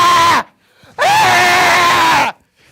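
A voice imitating a woman screaming late at night, two loud sustained shrieks, a short one followed after a pause by a longer wavering one, alone and close.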